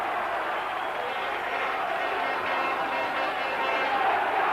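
Spectators at a Hunslet versus Workington Town rugby league match cheer in a broad, steady roar that swells slightly toward the end, with a commentator talking over it.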